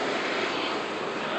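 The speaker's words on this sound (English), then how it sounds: "That was the president's plane" A presidential airplane lands at Hunter Army Airfield, its engines giving a loud, steady broadband roar with no break, heard from nearby outdoors.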